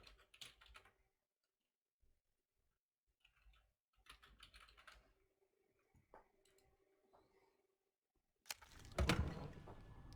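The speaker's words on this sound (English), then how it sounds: "Calmero, I'll type it out to you" Computer keyboard typing in short bursts of quick clicks separated by quiet gaps, fairly close and moderately loud, with a louder burst of noise near the end.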